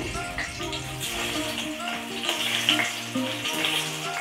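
Potatoes frying in hot oil in a pan, a steady dense sizzle throughout with faint crackles and stirring clinks, close and fairly loud.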